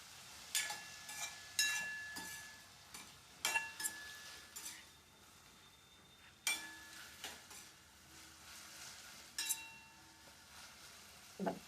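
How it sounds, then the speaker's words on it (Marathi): Potatoes fry gently in a pan for a sabudana and peanut Ekadashi fasting dish, with a soft steady sizzle and intermittent clinks and scrapes of a spoon stirring against metal. "बटाट्याला चांगलं फ्राय होऊ देते."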